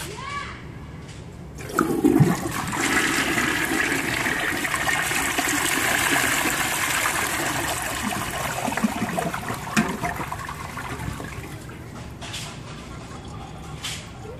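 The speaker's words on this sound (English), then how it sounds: "So, flush number 2, the last flush." An early 1960s Universal Rundle front trap toilet flushes, a loud rushing surge of water followed by a long steady swirl and trickling refill that fades over several seconds, with faint children audible outside.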